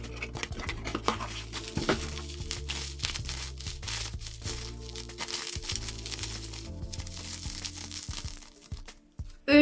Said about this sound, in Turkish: Paketinden de birlikte çıkarmak istedim. Önce bir açalım.